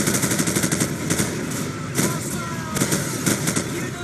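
Rapid gunfire rattles in Call of Duty 4, dense bursts of automatic shots over a continuous rumbling background.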